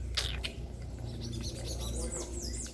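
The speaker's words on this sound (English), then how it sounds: "Birds singing." Birds chirp and sing outdoors near the beach in Santa Cruz among fruit trees, bright repeated tweets over a steady low background hum, moderately close.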